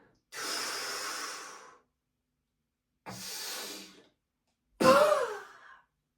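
Three deep exhalations during a breathing exercise, each a breathy whoosh lasting over a second and separated by pauses of silence, the last sharper and more forceful, close to the microphone with no talking.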